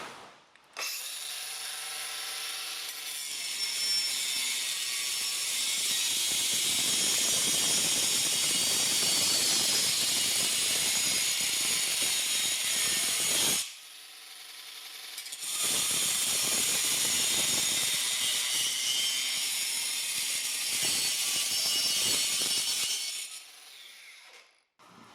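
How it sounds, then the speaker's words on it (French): A Bosch GWS 18V-15 SC cordless angle grinder fitted with a diamond disc cuts steel in a loud, sustained high-pitched whine, with two long cutting passes separated by a brief pause. "je vais couper avec le même disque diamant dans l'acier"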